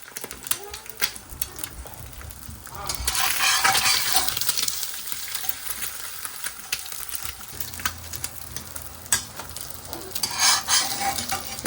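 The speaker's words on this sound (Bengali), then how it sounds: "3টে ডিম একসাথে ভাজছি তো" Three eggs fry together in oil in a pan at home, giving a soft, crackling sizzle with scraping and stirring clatter that rises and falls, while people talk quietly nearby.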